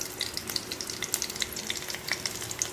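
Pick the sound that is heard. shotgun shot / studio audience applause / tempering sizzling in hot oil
tempering sizzling in hot oil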